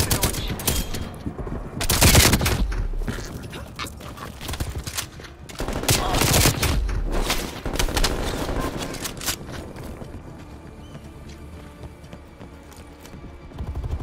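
Sustained M60 machine gun fire on the Nuketown map in a first-person shooter, loud bursts with heavy peaks near the start and middle, then steadier distant gunfire trailing off.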